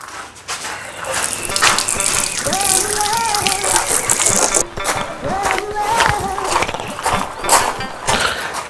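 Water is sprayed to wash down a mud-covered motor and engine, a steady, loud gushing spray running throughout while people talk over it.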